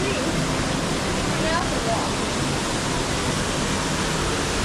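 Steady, loud rushing of a waterfall fills the clip, a constant broadband roar with no pauses.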